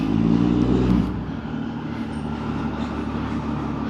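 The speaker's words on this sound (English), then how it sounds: "this diesel truck over here, I don't know if you guys can see it, but he's trying to like climb over the parking blocks" A Cummins turbo diesel pickup on Nitto Terra Grappler tires climbs over parking blocks in a lot, its engine loud and close with a heavier push in the first second before settling to a steady idle-like rumble.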